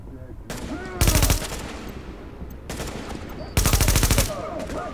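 Automatic gunfire in the video game Tom Clancy's The Division, two loud close bursts of rapid shots about two and a half seconds apart, with quieter game ambience and effects between them.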